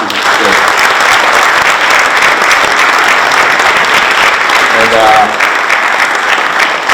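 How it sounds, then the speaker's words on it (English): A school assembly audience gives one more round of applause, a loud, dense, steady wash of clapping from a large crowd that holds for the full stretch, with faint voices mixed in. "One more round of applause."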